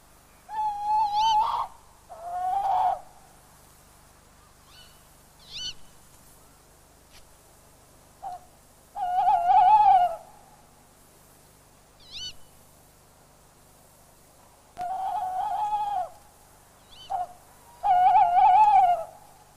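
Tawny owls call back and forth in winter to defend their territory. The hoots and wavering calls come in separate bursts with quiet gaps between them, fairly close and clear, with no voices.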